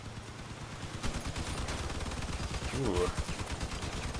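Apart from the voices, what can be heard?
gunfire in the video game Crossout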